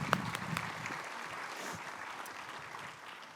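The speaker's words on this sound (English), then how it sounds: "can we please give them a round of applause?" A crowd at an outdoor groundbreaking ceremony gives steady applause for the constables and law enforcement officers present. The clapping is brisk at first, then thins and fades toward the end.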